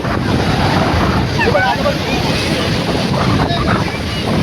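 Steady roar of ocean surf mixed with heavy wind buffeting the microphone, loud and close, with faint voices underneath.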